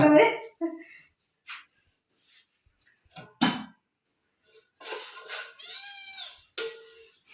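Yelping whimpers from a small puppy, a few short cries and a longer whine, heard between bits of conversation in a home.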